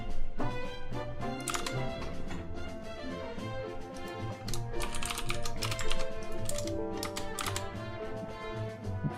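Fast typing on a computer keyboard, close and clear, with bursts of rapid key clicks and clacks separated by brief pauses over a low background hum, with no speech.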